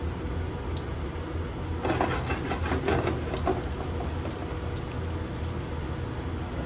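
Steady sizzling and crackling of garlic frying in hot oil, with a brief burst of louder spattering partway through, close by.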